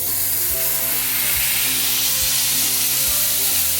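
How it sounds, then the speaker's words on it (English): Burger patty frying on a hot griddle, giving a steady loud sizzle throughout with regular low scraping or pressing pulses, no talking. "You can hear that it's sizzling right away."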